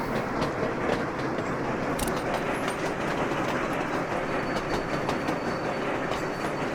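A train rolls steadily along its rails in the Sweet Transit video game, a loud, continuous rumble with a repeating clickety-clack of wheels over track joints and no talking.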